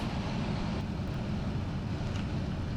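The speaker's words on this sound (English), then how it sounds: "I'm going to let this engine run for a while" A car engine idles steadily during an alternator check with a multimeter, a continuous low rumble with no breaks, close and moderately loud, with no speech.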